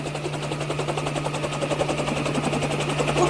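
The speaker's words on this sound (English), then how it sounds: "It sounds like a plane or a helicopter? There's a chopper in the lawn." A helicopter sits on a lawn with its rotor thudding in a steady, rapid chop and an engine hum beneath, loud and continuous throughout.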